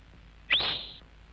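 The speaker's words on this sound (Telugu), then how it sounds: "విజిల్ వేయనా?" A person gives a single sharp whistle that rises quickly and then holds a bright tone for about half a second, loud against quiet surroundings.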